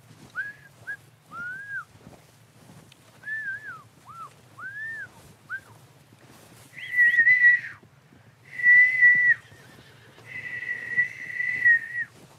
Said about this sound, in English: I'm real bad at whistling.